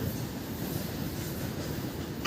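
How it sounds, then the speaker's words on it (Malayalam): A train of petroleum tanker wagons rolls along the railway track at Kaippattoor, near a spreading fire, making a loud, steady, continuous rumble with no breaks. "ട്രാക്കിന് സമീപത്തുകൂടി തീ പടരുന്ന സമയത്താണ് പെട്രോളിയം ടാങ്കറുകൾ ഇതുവഴി കടന്നുപോയിക്കൊണ്ടിരിക്കുന്നത്."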